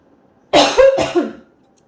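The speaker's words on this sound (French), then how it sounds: "Je vais tousser un bon coup, là." A single loud, close cough in two harsh bursts, followed by silence.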